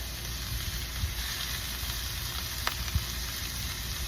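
Steak sizzling over a wood fire, a steady dense hiss and crackle held throughout with a few small pops, close and even in level.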